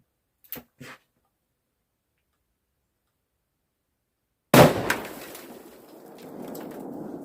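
A .500 S&W Magnum revolver fired at ice gives one sharp, loud, close blast after a long silence, followed by a rattling decay of scattering debris; a couple of faint brief ticks precede it.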